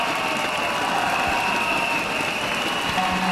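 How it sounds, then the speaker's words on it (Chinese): An outdoor audience at a televised Shandong singing show in Taierzhuang ancient town applauds to welcome a singer, a dense, steady wash of clapping with no voices. "掌声有请。"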